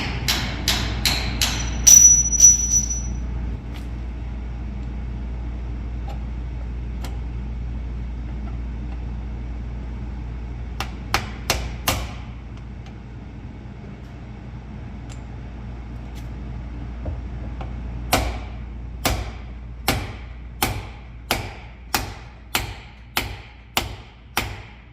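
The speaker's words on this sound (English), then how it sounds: "I'm going to have to go tap it out with a punch in the vise." A hammer taps a punch held in a vise to knock a stuck handle out of a bearing race and seal driver: a few strikes early, then a steady series of about ten sharp, evenly spaced metallic taps near the end, with faint engine hum beneath.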